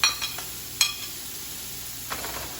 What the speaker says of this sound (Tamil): இப்போ நான் இந்த ஃப்ரை பண்ணி வச்சிருக்கிற நண்டும் அதோடு சேர்த்து மிக்ஸ் பண்ண போகிறேன்